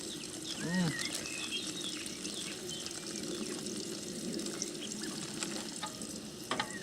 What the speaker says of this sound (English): Hear the sizzle? That's what we're listening for.